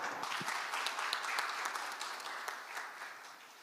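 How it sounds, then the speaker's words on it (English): Audience applause for panelists at a Korea-EU roundtable at the Jeju Forum, a fairly soft, steady wash of many hands clapping that gradually tapers off, with no talk. "Please give them a big round of applause."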